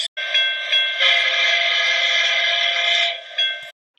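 A loud, sustained train whistle blasts for about three seconds with rich harmonic tones, followed by a short final toot before cutting off, heard on a former railway bed trail in Cranbrook, Canada.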